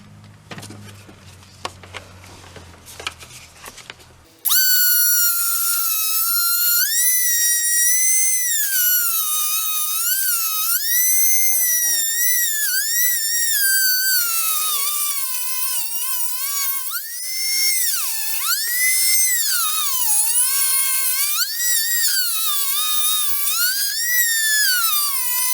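A Dremel rotary tool cuts a pedal cover during a manual swap on a 1992 Nissan Skyline R32, a loud, continuous high-pitched whine that rises and falls in pitch as the load changes, following a brief burst of quieter scraping.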